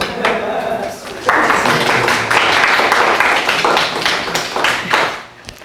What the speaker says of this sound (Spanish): Entonces les vamos a dar un aplauso